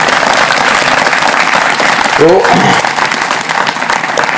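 An audience claps for Suresh Bhai Sahab at a public talk, a steady burst of applause running throughout, with a brief spoken word from a man heard over it.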